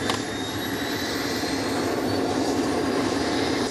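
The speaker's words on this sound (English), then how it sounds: "The helicopter is ready for takeoff" Loud, steady turbine whine and broadband rotor roar from a nearby helicopter, unbroken throughout, with no voices.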